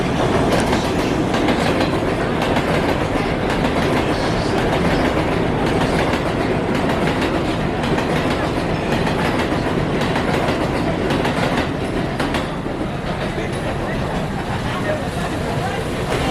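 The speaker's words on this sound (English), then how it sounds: "There is a local 7 train." A New York 7 subway train rumbles steadily nearby with clattering wheels and broadband roar throughout, heavy rain mixed in, and voices faintly audible underneath.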